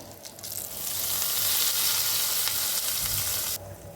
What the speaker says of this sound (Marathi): मस्त फोडणी बसलेले ओतूया आता